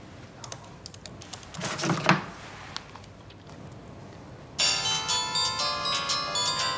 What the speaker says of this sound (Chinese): 你打一下我电话，看我电话坏了没。